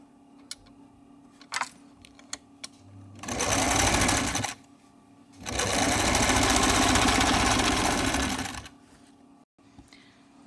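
A sewing machine runs two stitching bursts along the side seam of a front-open designer jacket, the first about a second long and the second a sustained three-second run. Short clicks and handling noises fill the pauses between them.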